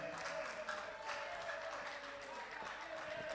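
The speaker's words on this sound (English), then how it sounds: "Put your hands together for Karembo. Keep on clapping until she comes." Crowd at a political democracy event keeps up sustained applause, a dense even wash of many hands clapping with faint voices mixed in.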